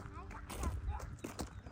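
Horses walking in a park, their hooves clip-clopping in a steady rhythm close by while people talk over them.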